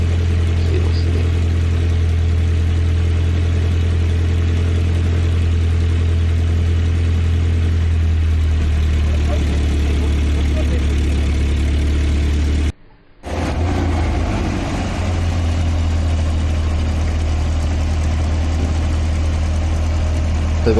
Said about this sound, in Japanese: 日産の古いエンジンはいい音しますね。